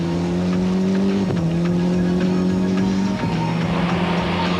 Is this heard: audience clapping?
no